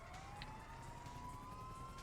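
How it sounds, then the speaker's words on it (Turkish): A police car siren in the video game GTA 5 wails steadily at a distance, its tone slowly rising and sustained, heard under a low rumbling background with no talking. "Şu sireni bir kapat"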